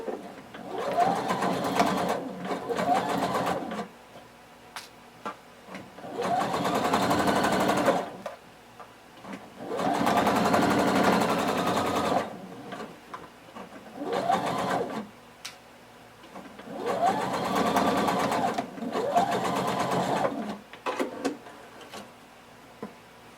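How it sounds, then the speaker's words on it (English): A sewing machine stitches a waistband onto shorts or pants with a 5/8-inch seam allowance, running in about five sustained bursts separated by short pauses, close and clear. "we're going to sew using 5/8 of an inch seam allowance until we reach the other end"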